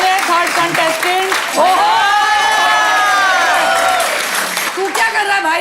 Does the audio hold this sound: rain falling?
no